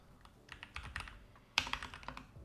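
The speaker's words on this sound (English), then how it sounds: "I'm going to expose myself with terrible typing again" Quiet, uneven typing on a computer keyboard, a run of soft key clicks with a sharper burst of keystrokes partway through, close to the microphone and alone.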